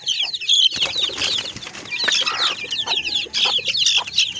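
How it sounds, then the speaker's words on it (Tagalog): Chicks flapping their wings in quick fluttering bursts among clucking chickens and a hen, with busy high chirps and clucks close by throughout. "Sisiw, lumipad"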